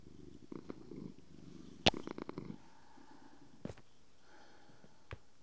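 A cat purrs in the Minecraft video game: a brief low rumbling purr near the start, then a few sharp clicks and soft thumps over quiet background.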